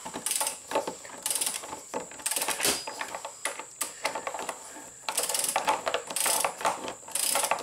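A socket ratchet working loose a tight oil drain plug, giving repeated bursts of fast metallic clicking with short pauses between strokes, close and fairly loud.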